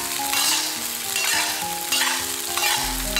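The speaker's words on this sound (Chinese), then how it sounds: "煎辣椒的时候，我们又用铲子不停地给它按压，这样才能够快速地把辣椒给它煎好" Green peppers frying in a little oil over medium heat while a spatula presses and scrapes them in the pan, a constant close sizzle broken by rhythmic scraping strokes.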